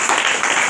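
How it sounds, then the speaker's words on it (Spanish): Brief burst of congregation applause in a church, dense close clapping filling under a second, loud and alone. "Vamos a dar un fuerte aplauso a Dios"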